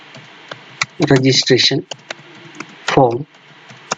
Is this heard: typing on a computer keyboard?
yes